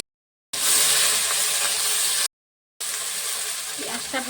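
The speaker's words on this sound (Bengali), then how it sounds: "গরম মশলাটা দিয়ে দিলাম দুটো শুকনো লঙ্কা দিয়ে পেঁয়াজ কুচিটা দিয়ে" Chopped onion with garam masala and two dried red chillies hits hot oil for chicken Patiala, giving a loud, dense hiss and sizzle in two bursts separated by a short silent cut.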